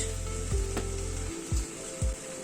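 Chicken and vegetables sizzle loudly in a pan as tomato ketchup goes in, a steady close frying hiss broken by a few soft thuds and stirring knocks.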